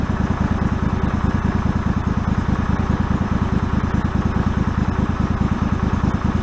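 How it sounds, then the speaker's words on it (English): A yard-sale John Deere lawn tractor with a liquid-cooled Kawasaki engine idling after carburetor flooding repair, a loud, steady rapid chugging hum with a fine clattering pulse, close up and unbroken. "It's running a Kawasaki liquid cooled engine."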